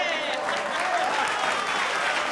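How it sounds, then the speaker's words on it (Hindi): Sustained applause from a crowd, dense clapping at an even level throughout. "तालियां ना।"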